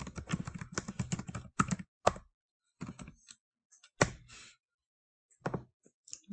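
Quick bursts of typing on a computer keyboard, clustered clicks followed by sparser single key taps and pauses, close and clear with no talk.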